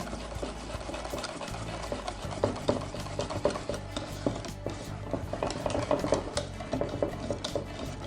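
Milk chocolate hazelnut brownie batter being mixed in a bowl by hand, giving a steady run of soft scrapes and light utensil clinks against the bowl.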